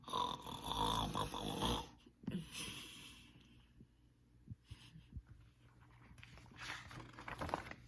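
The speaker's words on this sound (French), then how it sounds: "la classe résonne de leur ronflement" Snoring from a crowd of pirates napping in a classroom, a few loud rasping breaths at the start followed by softer snorts and irregular thumps, with no talking.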